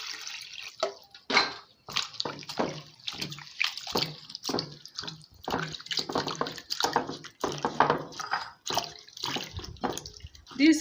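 Scent leaves being washed by hand in water to remove sand, with close, irregular splashing, sloshing and dripping in bursts separated by brief pauses.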